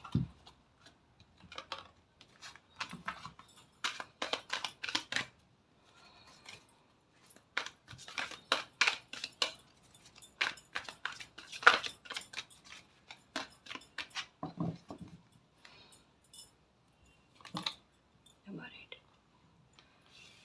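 Tarot cards shuffled by hand at close range: soft, crisp riffling and flicking bursts come in quick clusters, separated by short quiet pauses.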